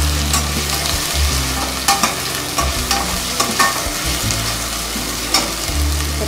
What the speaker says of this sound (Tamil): இது போட்டு நல்லா வதக்கிக்கோங்க.